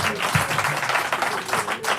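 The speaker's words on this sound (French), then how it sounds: "vraiment, j'aimerais qu'on l'applaudisse." Studio audience applause on a French television talk show, a steady wash of clapping for a few seconds with some voices mixed in.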